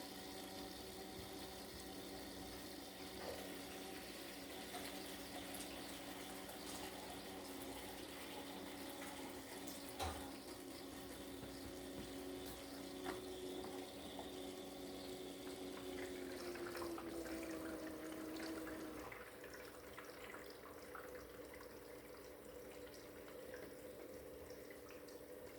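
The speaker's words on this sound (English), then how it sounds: "And I need to put more water in here." Tap water runs steadily into a seedling tray, a continuous close rush of flow with a faint tonal hum that shifts pitch near the end as the filling changes.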